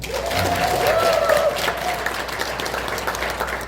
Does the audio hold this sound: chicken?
no